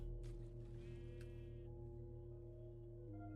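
A sheep in Minecraft bleats briefly over a steady, loud droning hum, a short wavering call near the start that fades within a second and a half, with no talking.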